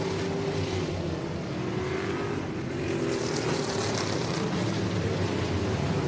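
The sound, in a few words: race cars in outlaw figure 8 race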